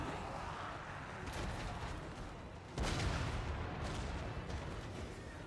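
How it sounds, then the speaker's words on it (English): Hell Cannon artillery fire in a Warhammer strategy battle game, a dense rumbling barrage with a sharp heavy blast near the middle, continuous and loud throughout without speech. "Another Hell Cannon shot hitting the Shade Wraiths"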